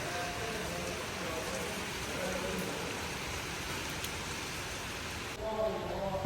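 Rain from an approaching storm falls steadily outside a newly bought house, a soft continuous hiss of drops on surfaces, fairly faint, with a shift in tone near the end and a voice speaking quietly over it.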